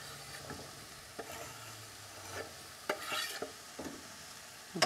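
Leeks, corn kernels and corn cobs being stirred in a soup pot on lowered heat for a chowder, giving soft scraping and shuffling strokes with light sizzling, intermittent and fairly quiet.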